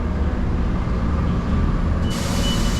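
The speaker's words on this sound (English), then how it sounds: "Goes a Lincoln City bus." A Lincoln City bus rolls past on a street in Lincoln, Nebraska, a steady low engine and road rumble with broadband traffic noise, close and fairly loud, with no speech.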